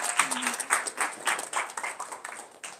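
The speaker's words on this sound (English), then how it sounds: "let's give a big round of applause for Will Austin." An audience at a school talks event applauds a student speaker, dense, steady clapping from many hands, fairly close and sustained throughout.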